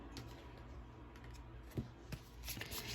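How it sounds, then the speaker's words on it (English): Tarot cards being shuffled by hand at a pick-a-card reading, a quiet continuous riffle with a few soft taps and a brief flurry near the end, close up with no talking. "I just want you to see me shuffling."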